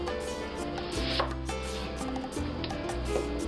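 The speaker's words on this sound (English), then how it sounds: "I'm going to make a downward slice, just like that" A knife slices downward through an onion and hits a wooden cutting board, giving several crisp chopping knocks close by with a soft rubbing between cuts.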